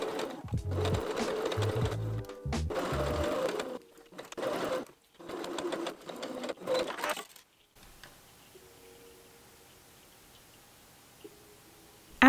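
A home sewing machine stitching along a curved line on dress fabric runs in bursts of rapid, even needle rattling with short pauses between runs, then stops, leaving a quiet room for the last few seconds.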